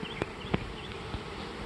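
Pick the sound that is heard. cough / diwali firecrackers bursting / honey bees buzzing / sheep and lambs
honey bees buzzing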